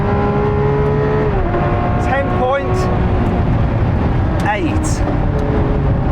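A Lamborghini Aventador SVJ launches hard with its single-clutch gearbox, the loud engine roar climbing and snapping through abrupt gear changes as the car pulls away, with people talking over it.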